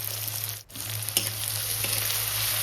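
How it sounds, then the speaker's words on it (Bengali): Chopped medium onion frying in oil for a Bengali fish curry, a steady close sizzle with a brief dip in the middle and a soft stirring scrape, no voices. "পেঁয়াজটাকে একটু নরম করে ভেজে নেব।"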